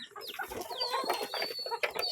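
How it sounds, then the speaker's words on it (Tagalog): Mixed poultry calls nearby from hens and pigeons: soft clucking and cooing with higher chirps and whistles layered together, busy and continuous. "Ang aking mga inahin."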